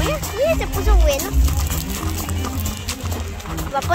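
Many horses arrive at a San Juan day festival outdoors, their hooves clip-clopping on the ground in an irregular patter while people talk over them throughout.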